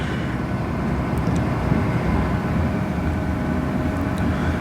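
A train pulls out of Leeds station, heard from inside as a steady low rumble and drone of the moving carriages, continuous and fairly loud, with no talking.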